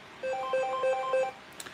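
A telephone rings with a quick electronic melodic ringtone, a short burst of repeating bright tones heard alone and fairly clearly.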